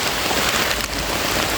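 Heavy rain pours down during river fishing in Kerala, a dense, loud, unbroken hiss of drops pattering on surfaces nearby, with no voices over it.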